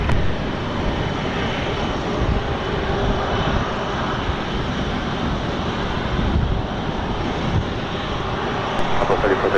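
An RAF Airbus KC2 Voyager jet takes off from a runway, its engines producing a steady, loud, broadband roar that holds throughout with some wind buffeting on the microphone.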